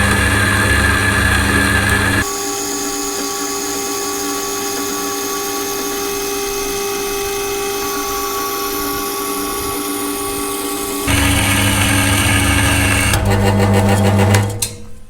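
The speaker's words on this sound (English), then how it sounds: "How satisfying is a bandsaw?" A bandsaw cuts through a metal plate being made for a car's engine and gearbox mounts. It makes a loud, steady mechanical whine and rasp that shifts in tone about two seconds in and again near eleven seconds, then runs down at the end.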